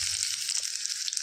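Garlic fries in hot oil for a tempering in a small pan, giving a brief, steady, bright sizzling hiss heard close up and on its own.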